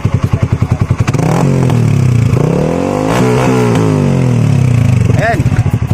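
Yamaha Sniper 150 motorcycle fitted with an Akrapovic carbon exhaust with silver tip and silencer, close and loud, idling with a pulsing beat, then revved hard twice before settling back to idle.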